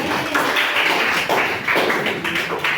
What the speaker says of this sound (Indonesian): kasih aplaus untuk kelompok 3